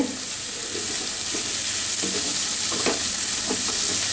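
Chopped onions and dried chillies frying in hot oil, a steady close sizzle with a few soft scrapes of a stirring spoon.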